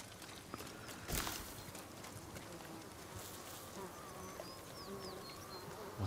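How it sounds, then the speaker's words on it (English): Bees buzzing around a hive in Ghost of Tsushima, a faint steady drone under soft ambient outdoor sounds, with one louder thud near the start. "Oh, I seem to remember something about these bees."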